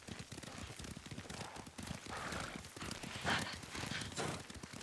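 Horse hooves galloping at a steady, rapid clip-clop in the Ghost of Tsushima video game, loud and continuous with a faint brief whinny-like accent and some ambient rain-like hiss beneath.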